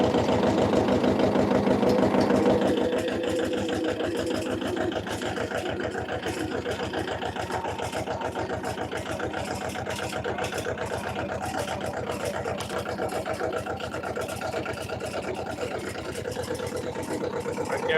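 A nearby tractor engine idles with a steady, throbbing low rumble for the whole stretch, slightly louder and rougher in the first couple of seconds.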